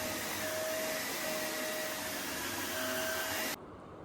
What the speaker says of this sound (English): I'll start off by vacuuming the carpet.